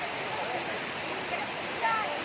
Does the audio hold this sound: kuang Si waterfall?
yes